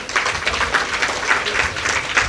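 Audience at a Hindu religious discourse, a Devi Bhagwat katha, breaks into steady applause, a dense, continuous wash of many hands clapping throughout with no talk over it.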